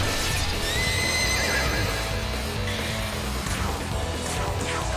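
Horses in the video game Shin Megami Tensei V Vengeance neigh and whinny loudly over clip-clopping hooves and a dense, continuous wash of game sound.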